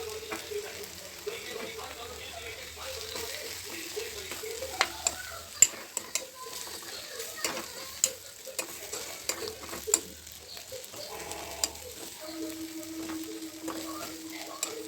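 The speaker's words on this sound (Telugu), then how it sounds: "బెండకాయ ఫ్రై చేస్తున్నాను నేను." Okra frying in a pan with grated coconut and chili, a steady soft sizzle with scattered clicks and taps of stirring and utensils throughout, no voices.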